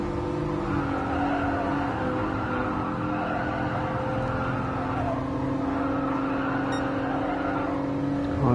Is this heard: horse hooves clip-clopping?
no